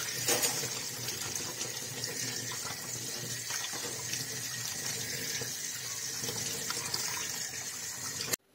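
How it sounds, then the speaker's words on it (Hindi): Cold tap water pours steadily over boiled chow mein noodles in a strainer, a continuous close splashing rush lasting several seconds before stopping abruptly. "उसके बाद हम ठंडा पानी डालेंगे, फिर से हमें ठंडा पानी डालना पड़ता है उसके बाद।"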